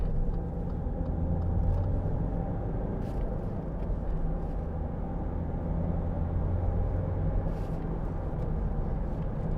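A 2012 Land Rover Freelander 2 TD4 diesel on an open road, its low engine rumble and tyre roar steady and continuous inside the cabin, with no talk.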